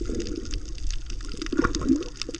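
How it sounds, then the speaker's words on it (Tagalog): Strong underwater sea current rushing past a diver during a night spearfishing dive in the Philippines, a steady, close churning wash of moving water with bubbling and scraping against rock, continuous throughout with no talking. "Dito guys, biglang lumakas ang agos."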